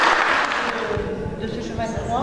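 Applause from an audience gathered in a church after a Stations of the Cross service, steady clapping filling the short moment with some murmured voices mixed in.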